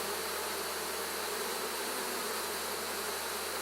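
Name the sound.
honeybees buzzing on honey super frames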